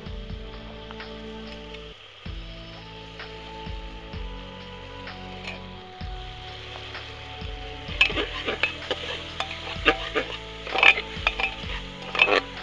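Curry masala powder is stirred into precooked mutton in a pressure cooker for mutton biryani: repeated scraping stir strokes with a soft sizzle, growing busier and louder in the second half over steady background music.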